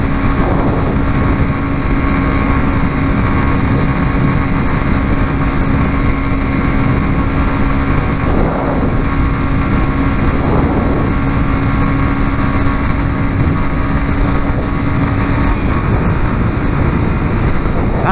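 A Yamaha Fazer 250 motorcycle with a slipping clutch rides through potholed downtown streets of São José dos Pinhais, its engine a loud, steady drone mixed with wind rumble for the whole stretch, with no talking.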